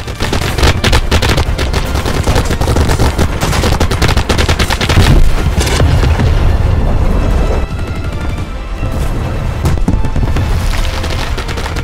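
Loud, rapid bursts of automatic machine gun fire in a World War II video game rattle almost nonstop, with heavy booms and explosions mixed in throughout.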